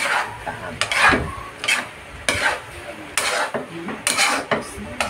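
Beef bopis being stirred in a pan gives a run of scraping, clattering utensil strokes against metal in uneven bursts, close and fairly loud, with some light sizzle underneath.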